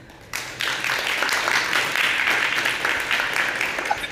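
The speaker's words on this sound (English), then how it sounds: "one last round of applause to welcome him for his presentation" Welcoming applause from a conference audience at an ad-filtering developer summit, starting abruptly after a brief quiet moment and continuing as a steady, full crowd clapping sound.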